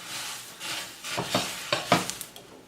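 Six cups of Rice Krispies are stirred into a pot of melted mixture with a spoon for candy corn treats, producing crunchy, rustling scrapes that build into several louder rhythmic strokes.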